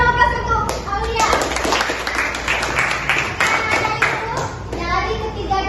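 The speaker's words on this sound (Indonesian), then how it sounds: "Berikan dulu aplaus untuk Alia" Applause for a student named Alia during a university micro-teaching class, a room of young people clapping together steadily for several seconds, with some voices and chatter mixed in.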